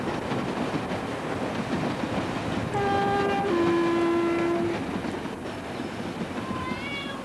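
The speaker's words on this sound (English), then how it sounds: "See the train going by." A train rumbles past with steady broadband noise, and a sustained horn blares partway through before fading back into the rolling clatter.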